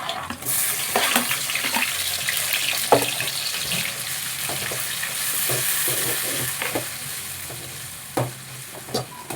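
Tomato fries in a pan with green chilli, ginger garlic paste and cumin for pudina rice, a steady sizzle under repeated stirring clinks and scrapes, with a few sharper knocks.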